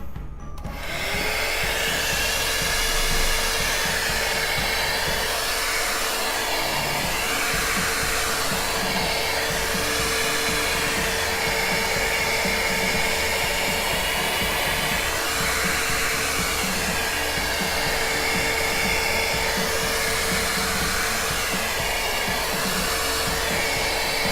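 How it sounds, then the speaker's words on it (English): A blow dryer drying acrylic pour paint runs steadily with a loud, constant whir and hiss, unbroken from start to finish. "Again, I'm using my blow dryer,"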